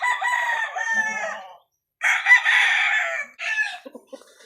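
An F1 golden boy sweater gamefowl rooster, a broodcock, crows loudly and close by: one long crow, a short silence, then a second crow followed by a clipped third call and soft clucks.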